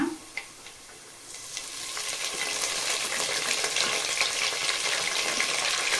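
Green chilli and mint going into hot oil in a pan for chicken biryani, starting with a few scattered clinks and light sizzles, then swelling into a loud, continuous close crackling sizzle with occasional stirring sounds.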